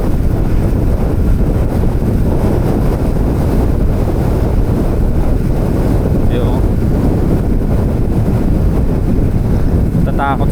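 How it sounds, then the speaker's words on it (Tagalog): Strong wind roars and buffets the microphone without a break, a loud constant rush that drowns out everything else. "Lakas kasi ng hangin talaga."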